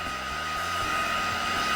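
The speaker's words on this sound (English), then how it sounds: "I'm just going to get my heat gun and just make sure this is nice and dry." A heat gun dries a freshly inked alcohol ink panel, giving a steady, even blowing roar that holds at a constant level from start to finish with nothing else over it.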